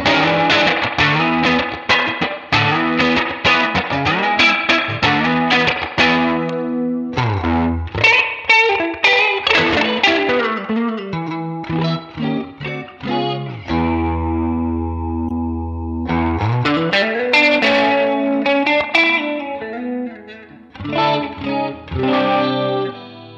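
Electric guitar played through a Headrush amp modeller on its Deluxe Reverb model with the bright switch, strummed chords and sustained ringing notes with a chorus-like shimmer, loud and continuous with brief pauses.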